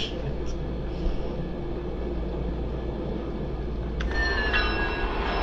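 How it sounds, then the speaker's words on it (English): A video-game train with damaged brakes rumbles steadily along the track, and near the end a sharp metallic squeal rises over it while a voice talks faintly underneath. "We already just fucked up the train by fucking up the literal brakes."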